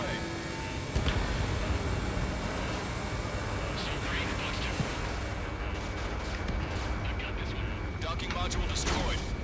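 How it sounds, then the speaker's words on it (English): A missile launches and explodes in the Ace Combat 7 flight game, a sustained roar of jet noise and rumbling blasts filling the mix while radio voices talk over it. "Missile away."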